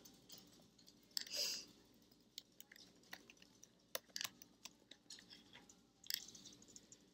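Typing on a MacBook keyboard, faint soft key clicks in quick irregular clusters against a quiet room background.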